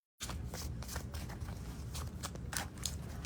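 Tarot cards are shuffled in quick, crisp bursts of riffling and flicking, close and fairly quiet, with no voice.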